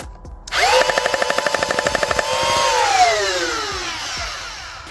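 A Worker Phoenix foam blaster's flywheel motor whines up, then fires a rapid full-auto burst of about twenty evenly spaced shots before the motor spins down. Close, loud and alone.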